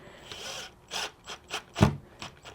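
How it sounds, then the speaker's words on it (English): Impact driver snugging grille screws on a 4th Gen Toyota 4Runner TRD style grille: a handful of short, separate mechanical whirring bursts, fairly close and moderately loud, ending with a stronger final burst, no talking. "Then we'll go ahead and take our screwdriver, or in our case, impact driver,"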